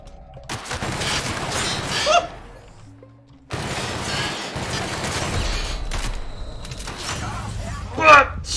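Enemy gunfire in The Outer Worlds video game, bursts of rapid shots and booms in two long stretches separated by a brief lull, loud and close, with a sharp crack near the end.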